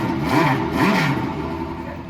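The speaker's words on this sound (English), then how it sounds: "So I can test what a Spyder RS sounds like when you start it up." A Porsche Spyder RS engine barks into life on the starter and revs briefly, a loud close mid-range engine roar that swells twice before settling toward idle, with no talking.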